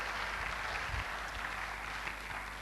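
Sustained applause from a church congregation during a sermon, a steady dense wash of clapping that fills the room at even loudness throughout, with no voices standing out above it.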